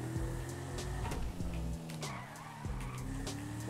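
Car tires skid and squeal in the GTA video game during a brake test, with a steady engine drone beneath and sharp squeal bursts recurring through the stretch.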